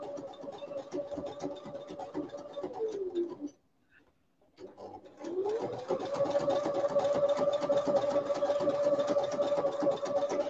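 A sewing machine stitches a shirt collar in two steady runs, with a brief pause near the middle as the motor stops and then speeds back up, loud and close.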